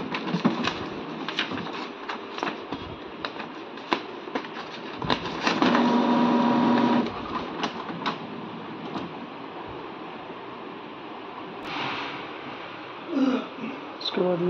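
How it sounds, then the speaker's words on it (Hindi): An HP Smart Tank printer prints a status report, giving a mechanical whir with clicks and a steady motor hum in the middle, amid faint background noise and scattered knocks. "इस पर हम जैसे ही हम क्लिक करेंगे ये हमें एक प्रिंटिंग देगा।"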